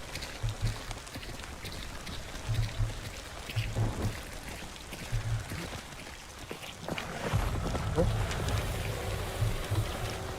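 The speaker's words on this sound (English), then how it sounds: "Could just be the rain there." Steady rain patter in the video game Ignite the Blight and a low rumble hold throughout, with short bursts of voice-like sound drifting in and out beneath it.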